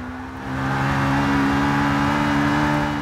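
A Ferrari 488 GTB in Forza Motorsport 6 accelerates hard, its engine note swelling after a brief quieter moment into a sustained, steady high-revving drone.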